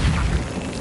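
A Reparo repair spell cast in Hogwarts Legacy gives a brief, loud, dense rumbling burst with a crashing, clattering texture that fades slightly toward the end.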